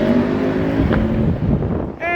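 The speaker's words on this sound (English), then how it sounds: "Zack's testing the bike out, just installed a Cordona quick shift and auto blip." A Ducati V4R motorcycle engine fitted with a Cordona quick shift and auto blip runs loud and steady nearby, a continuous droning rumble with a sharper rise near the end as it revs.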